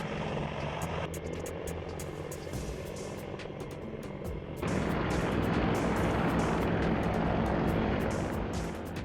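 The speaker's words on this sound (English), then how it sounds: "Aerodynamic checks are conducted in a large open area where the helicopter takes to the air, demonstrating breathtaking maneuvers." AH-64 helicopter airborne during an aerodynamic test flight over a large open area, a steady distant rotor and engine drone that swells louder partway through.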